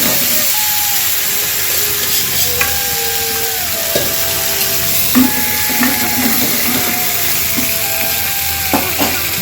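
Sliced potatoes fry in a pan at home for a Kannada potato fry, giving a steady close sizzle and hiss with occasional stirring scrapes and clinks throughout, with no talk.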